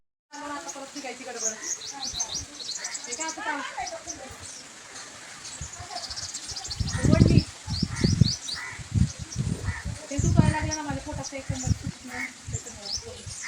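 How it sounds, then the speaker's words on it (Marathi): Birds chirp and twitter busily all around, several calls overlapping, while a few low, muffled thumps sound close by. "ऐकलत ना पक्ष्यांचा असा चिवचिवाट"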